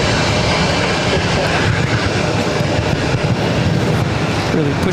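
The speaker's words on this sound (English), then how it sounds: "That Southwest flight heading to St. Louis, now rolling down at 22 right." A Southwest airliner on its takeoff roll down runway 22 right at Boston, a loud, steady, broadband engine roar with no break.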